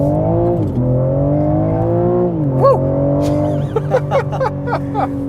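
A BMW M3 accelerating, its engine note climbing in steady harmonics with a gear change partway through, close and loud, with brief tire chirps or clicks near the end.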